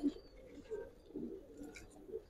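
A Giribaz pigeon coos softly and faintly in a few low, murmuring phrases against quiet background noise.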